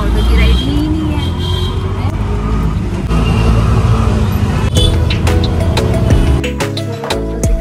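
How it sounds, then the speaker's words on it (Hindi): An auto rickshaw rides through busy street traffic with a loud, constant engine rumble, passing vehicles and horn-like tones toward the end, while voices chatter under the road noise. "लोकल राइड ले रहे हैं ऑटो की"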